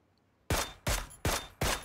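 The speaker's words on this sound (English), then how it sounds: "until you started shooting at him" Four loud, evenly spaced gunshots from a video game firefight boom close by after a brief quiet stretch, each with a sharp attack and a short decaying tail.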